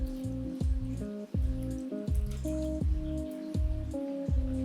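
Water drips and trickles off a piece of freshly rinsed coral in quick, uneven drops, close and clear with no voices.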